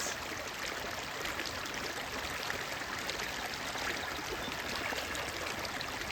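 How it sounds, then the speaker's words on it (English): A strong creek runs steadily at a former resort site, its broadband rushing and burbling water continuous and fairly close throughout, with no voices. "there's a pretty strong creek running through here"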